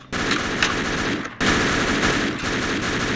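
Sustained automatic gunfire in the Roblox game ER:LC rattles on loud and close for several seconds, with one short break partway through, and almost no talking.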